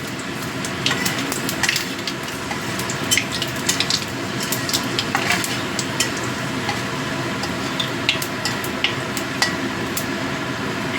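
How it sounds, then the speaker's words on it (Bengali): Panch phoron spices crackle and sizzle in hot oil, with scattered sharp pops over a steady frying hiss and occasional stirring clinks. "তেলটা গরম হয়ে গেছে। এবার এই তেলের মধ্যে আমি দিয়ে দিচ্ছি পাঁচফোড়ন।"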